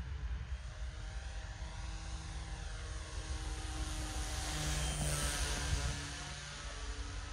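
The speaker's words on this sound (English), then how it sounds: "the plane is on rails" A small FPV flying wing model plane in flight, a steady buzzing propeller drone with wind rush, holding a constant level throughout and swelling slightly near the middle as it passes.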